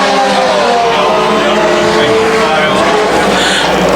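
Race cars roar around a turn at a speedway, a loud continuous engine drone with shifting pitch as cars pass close, heavy and unbroken throughout, with a track announcer talking over it.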